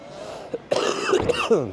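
A single throaty cough bursts out inside a Honda Civic FL1, followed by a few voiced, clearing sounds, fairly close and moderately loud.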